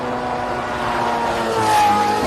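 A modified saloon race car launching hard at a hill climb, a brief loud burst of engine roar, rising slightly as it pulls away.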